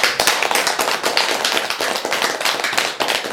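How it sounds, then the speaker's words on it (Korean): Brisk, loud clapping from an audience at a Buddhist college lecture at Hwaeomsa, many hands striking in a dense, uneven patter that continues steadily throughout. "박수 한번 주세요"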